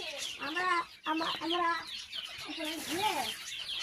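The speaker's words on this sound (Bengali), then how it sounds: "মুরগি এখন সব ভয়ে ঢুকা দিচ্ছে, আর ময়লা হবে না।" Chickens clucking close by in a yard, a run of short rising and falling clucks and squawks in quick bursts, fairly loud with no clear talk over them.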